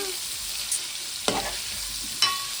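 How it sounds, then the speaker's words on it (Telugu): Pieces deep-frying in hot oil give a steady, bright hiss, broken by a few sharp scrapes and knocks as they are stirred in the pan. "ఇలా డీప్ ఫ్రై చేసుకుంటూ నేను ఈ ముక్కలను అయితే ఇలా కలుపుతున్నా"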